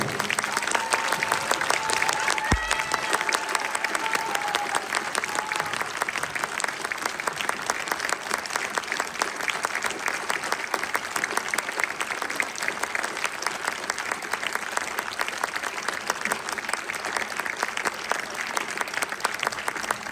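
Sustained, loud applause from a concert audience for the Saint-Bavard choir and guest performers in Toul, France, a continuous dense clapping with a brief whistle early on, lasting about twenty seconds.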